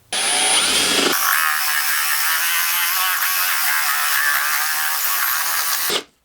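A Forstner bit bores a 1.5 inch hole through cedar, a loud steady power-drill whir that starts abruptly after a short quieter spin-up and holds for about five seconds before cutting off.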